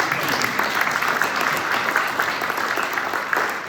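Continuous applause from a community association meeting crowd honoring a volunteer, dense and steady clapping throughout.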